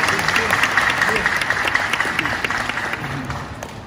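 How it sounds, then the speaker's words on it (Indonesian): Audience clapping after a public lecture at a university in Gorontalo, a dense round of applause from a crowd that gradually tapers toward the end. "Tepuk tangan untuk sini."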